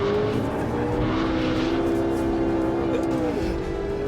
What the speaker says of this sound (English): you can now drift a McLaren